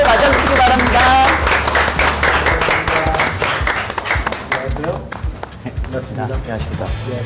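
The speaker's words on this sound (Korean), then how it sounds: "따뜻한 환영의 박수로 맞아주시기 바랍니다" Warm applause from an audience greeting a prime minister as he enters a youth debate event, dense and loud at first, then thinning into scattered claps with background chatter and voices.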